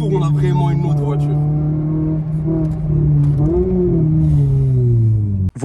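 Loud Cobra exhaust on a Renault Clio RS F4R engine, a deep, throaty drone held near, rising in pitch under acceleration before falling away, with someone speaking during it.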